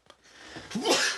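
A single sneeze, building from a short intake of breath into a breathy, explosive burst, close to the microphone during a casual podcast conversation.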